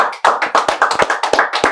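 Game show audience clapping in a quick, irregular burst of close, sharp hand claps, loud and without talk, lasting under two seconds.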